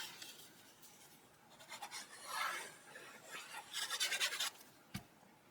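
A burnishing tool rubs firmly across cardstock in a scrapbook album, quick raspy back-and-forth strokes in uneven bursts, close and fairly quiet, ending with a small tap.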